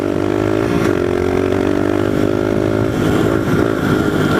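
A pit bike motorcycle engine revs loud and close in fifth gear, its buzzing pitch climbing steadily, dipping briefly, then rising again with no talking.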